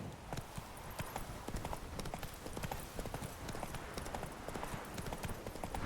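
Roach, Geralt's horse in The Witcher 3: Wild Hunt, trots with steady, rapid clip-clopping hoofbeats over a constant game ambience.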